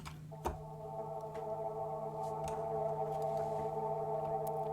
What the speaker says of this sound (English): The final sound is the gritty drone bed, which sounds like this.